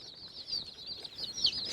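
Young chicks kept in a cardboard box peep faintly in a near-continuous stream of thin, high-pitched cheeps.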